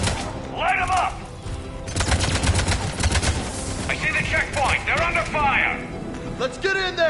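Gunfire in Mass Effect 3, rapid automatic bursts and crackling shots, loud and close, running through the scene while characters speak over the combat.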